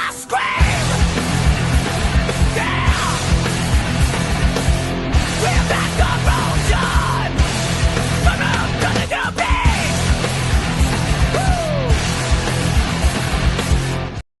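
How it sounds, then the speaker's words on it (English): A person screams loudly and continuously on a sports talk show, a harsh, distorted yell that fills the whole stretch with barely a break. "Gotta scream!"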